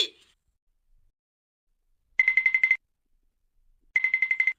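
A phone rings out while calling the election commission, with two short bursts of rapid electronic trilling separated by silence, loud and close.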